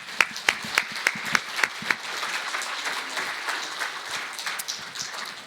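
A church congregation claps for a children's choir in a steady rhythm that builds into a dense round of applause, moderately near and sustained.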